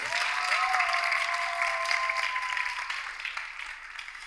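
Studio audience of a TV dating show clapping loudly and continuously, with a sustained musical tone running underneath before the applause fades toward the end.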